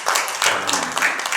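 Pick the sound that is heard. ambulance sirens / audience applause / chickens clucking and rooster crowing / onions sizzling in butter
audience applause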